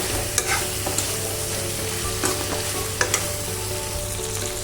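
Broiler chicken pieces and masala spices fry in a pan with a loud, continuous sizzle. Occasional sharp scrapes and knocks come as they are stirred, with no voices.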